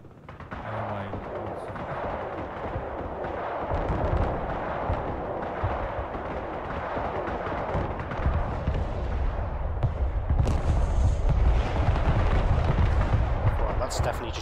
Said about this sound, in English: So I'm about to fire my artillery now.